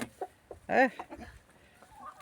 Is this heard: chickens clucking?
yes